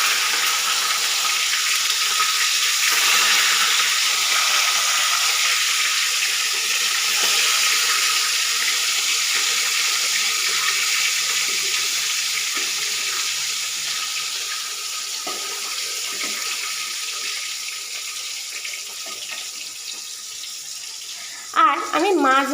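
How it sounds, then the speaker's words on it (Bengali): Fish fries in hot oil in a kadai, a loud, continuous hiss and sizzle that holds steady throughout and eases slightly toward the end, where a brief clatter closes it. "তেল কিন্তু গরম হয়ে গেছে। এবার আমি মাছগুলি আস্তে আস্তে ছেড়ে দেব"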